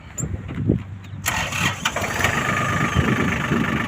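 An old Japanese Kubota GL-280 tractor in original, unmodified condition cranks and fires up, its engine settling into a loud, steady mid-pitched idle close by.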